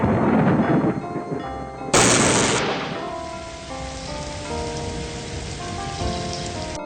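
Steady rain patters and hisses on a surface in the 1995 video game Discworld, with a sudden sharp burst near the start before settling into a continuous, even downpour.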